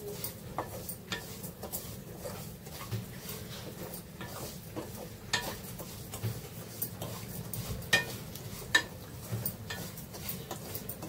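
Rice, semolina and sev roasting in ghee in a pan, heard as quiet scraping and stirring with irregular clinks of a spoon against the pot over a low, steady background, with no speech.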